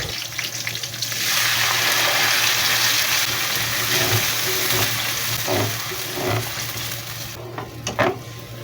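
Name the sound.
blended spice paste frying in a pan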